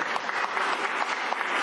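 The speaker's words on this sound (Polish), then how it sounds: "Także jeszcze raz brawa dla moich uczniów." An audience at a school-leaving ceremony for graduating secondary students gives steady, dense applause that stays even throughout with no break.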